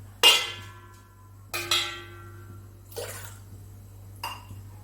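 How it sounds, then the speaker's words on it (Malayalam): Water poured from a glass into a pressure cooker on the stove, with four separate splashing pours that each ring briefly against the metal pot and then fade, set against a low steady hum. "ഒരു ഒന്നര ഗ്ലാസ് വെള്ളം ഒഴിച്ച് കൊടുക്കാം"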